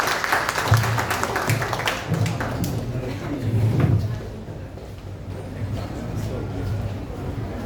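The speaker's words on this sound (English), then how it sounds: "May we have a huge round of applause for our respected sir." Applause from the audience at a university event marking the International Day of the World's Indigenous Peoples, honouring a respected guest. Moderate clapping mixes with talking and a few taps and thuds, and it eases off partway through.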